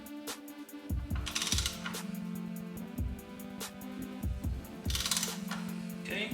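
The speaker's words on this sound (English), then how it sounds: "This one needs to be torqued down to 100 Newton meters." A torque wrench ratchets as it tightens a front frame slider bolt on a Ducati Streetfighter V, giving close, rhythmic clicking pawl sounds in quick repeated strokes with brief gaps, over a faint low hum.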